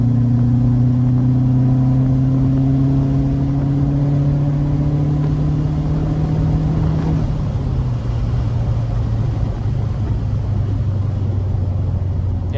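Turbocharged Subaru WRX wagon with a VF48 turbo and ID1050 injectors roars through a full-throttle tuning pull, a loud steady drone rising in pitch for about seven seconds before dropping back to a lower sustained rumble.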